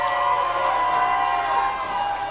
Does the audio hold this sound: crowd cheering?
yes